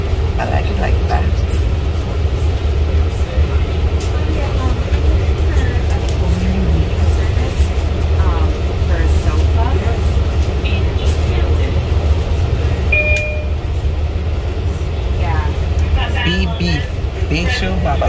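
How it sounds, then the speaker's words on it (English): Interior of a Long Island commuter train riding from Shirley toward Jamaica Ave, New York, a steady low rumble and rolling rail noise throughout, with people talking over it. "a train ride for the first time"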